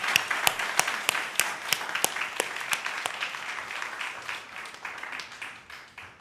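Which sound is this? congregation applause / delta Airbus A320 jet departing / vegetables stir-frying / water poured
congregation applause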